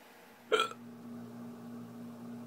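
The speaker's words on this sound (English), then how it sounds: "I got the hiccups." A person gives a single sharp, close hiccup, a brief voiced gulp, followed by quiet room tone with a low steady hum.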